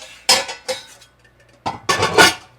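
Cast iron pans and metal cutlery clatter during meal prep in a home kitchen, three bursts of loud, close clanking and scraping separated by short quiet gaps, with no voices.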